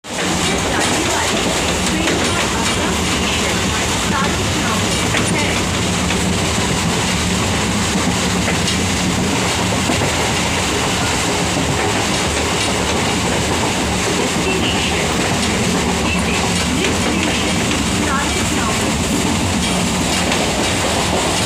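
A Gede local train on the line from Ranaghat, a loud continuous rumble of wagons with rhythmic clickety-clack and faint voices mixed in throughout.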